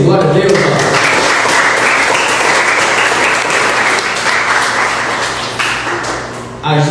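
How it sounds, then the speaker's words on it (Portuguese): A church congregation at a Baptist service bursts into loud, sustained applause after baptisms, a thick wash of many hands clapping close by that continues for several seconds before tapering, with voices and cheers blended in. "Vamos aplaudir Jesus pela vida deles, queridos"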